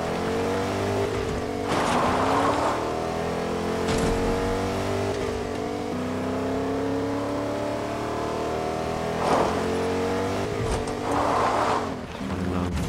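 A pickup truck driving off-road in Fortnite, its engine droning steadily and revving up and down as it climbs and accelerates, loud and close with no talk.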